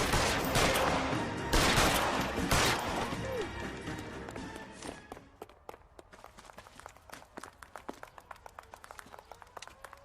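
Gunfire in the video game L.A. Noire, a dense loud burst of rapid shots at first that thins into scattered sharp cracks and clattering impacts.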